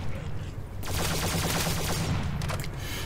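An AN-94 rifle in a Minecraft zombies game fires in fast, continuous bursts, a dense rattling stream of shots at close range with brief gaps between volleys.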